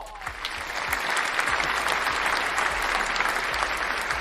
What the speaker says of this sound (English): Can I get the applause?